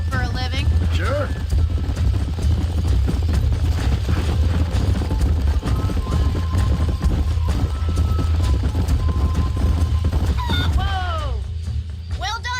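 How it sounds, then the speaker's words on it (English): Horses in the Red Dead Redemption video game clip-clop steadily under a busy game soundtrack with low rumbling and scattered crashes, while voices talk over much of it. "These are fine horses."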